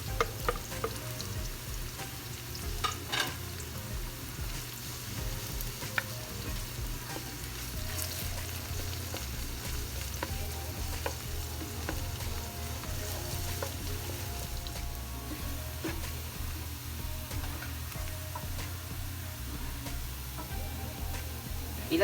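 Garlic frying in oil for fish escabeche makes a low, steady sizzle and crackle lasting over twenty seconds, with scattered small ticks and pops.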